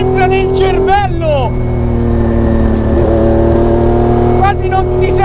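A Lancia Stratos HF rally car engine revs hard, with loud, rising and falling revs at the start and end and a sustained steady engine tone in between, close and with someone talking over it.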